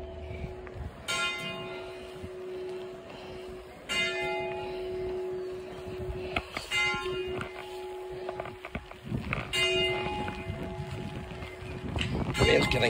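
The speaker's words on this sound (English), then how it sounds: "Oh, there's the bell going." A church bell rings repeatedly in a churchyard among 18th-century graves, its tolls spaced a few seconds apart over steady outdoor noise, with someone talking nearby throughout.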